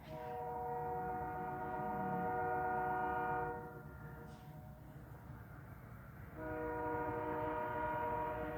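Passing train sounding a warbly horn, a loud sustained chord that wavers in pitch, cuts out for a few seconds and returns, over steady rumble of rail cars at moderate distance.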